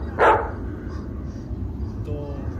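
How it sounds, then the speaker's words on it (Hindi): A dog gives a single sharp bark at moderate distance, followed by quiet background hum and a faint later rustle. "मम्मा मेरे को कुत्तों से डर लगता है भाई।"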